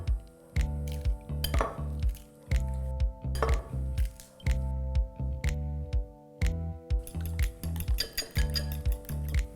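Eggs beaten in a bowl: a fork or whisk strikes the bowl in quick, steady rhythmic bursts of close, bright clinks, with short pauses between rounds of strokes.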